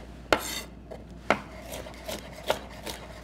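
A knife cuts a red pepper on a board for chimichurri, giving a few sharp separate chops with softer scraping between them, close and quiet, no talk.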